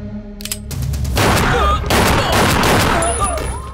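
Rapid bursts of action-movie gunfire crackle loud and dense for a few seconds, sharp overlapping shots filling the scene after a brief quieter opening.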